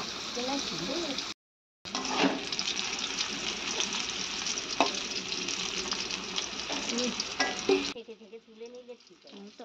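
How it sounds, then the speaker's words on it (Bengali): Pieces of teasel gourd (kakrol) frying in oil give a continuous sizzling hiss with stirring clinks and scrapes. A short gap breaks it early, it runs on steadily, then fades to faint background at the end. "এটাকে আমি একটু ভেজে নিলাম কাঁকরোলটা"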